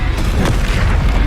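Incendio fire spell cast in Hogwarts Legacy: a loud, dense burst of roaring flame with deep booming low end, sustained across the moment with a brief whooshing flare near the middle.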